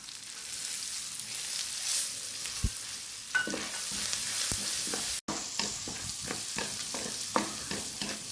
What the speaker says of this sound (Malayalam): ആ എള്ളും കൂടി ഇട്ട് ഒന്ന് വറുത്തെടുക്കണം